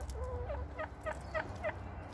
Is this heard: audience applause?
no